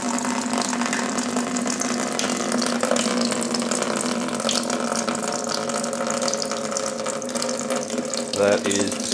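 Water pours steadily out of an opened inspection cover on a machine's housing, a continuous splashing trickle with a low droning hum underneath and a brief gurgle near the end.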